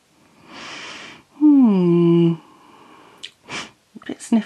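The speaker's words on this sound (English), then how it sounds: "a bit of a sniffle" A short breathy sniff, then a brief voiced sound, followed by a couple of quick nasal sniffles from a runny nose close to the microphone.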